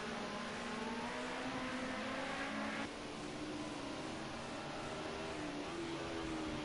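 Race cars drive through Old Hall Corner at Oulton Park during a circuit race. Their engines give a continuous, fairly close drone that shifts pitch partway through as they come off the crest and into the bend.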